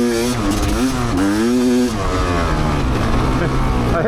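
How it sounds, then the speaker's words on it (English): Off-road motorcycle on a sandy ORV trail at Crapo Creek, engine loud and close as it pulls hard in fourth gear, pitch climbing with wind rush, while a rider talks over it. "I hit that fourth gear and goosed it"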